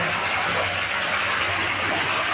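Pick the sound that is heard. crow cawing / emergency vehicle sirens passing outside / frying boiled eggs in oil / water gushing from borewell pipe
water gushing from borewell pipe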